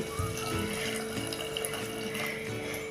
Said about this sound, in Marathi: आता त्यामध्ये मी हे गरम केलेलं पाणी घालते